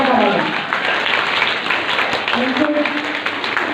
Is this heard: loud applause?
yes